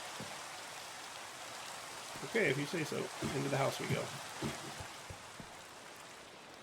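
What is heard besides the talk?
rain falling in video game Minecraft ATM9 Sky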